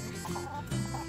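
A rooster gives a couple of short, low clucks close by, with no other sounds.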